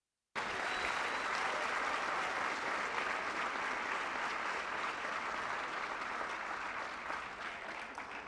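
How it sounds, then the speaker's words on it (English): At a football club senior night, a crowd breaks into sudden, steady applause for the graduating class of 2023, a dense uniform clapping that holds loud for about eight seconds and tapers slightly at the end. "one more round of applause for them."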